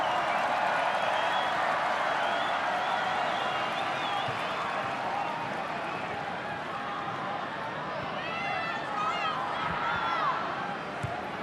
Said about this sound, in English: it is more of a home-sounding crowd for China